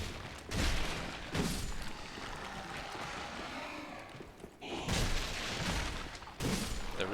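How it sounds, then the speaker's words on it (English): Bombs thrown by enemies burst in Dark Souls 3, a few muffled booming blasts spaced apart with a rumbling low-level din between them, and no talking. "They throw these bombs, which have these little magic orbs that will follow you around"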